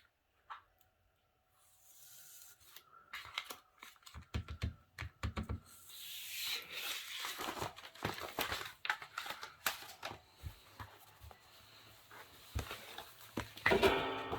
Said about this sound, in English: And then I could peel off the backing.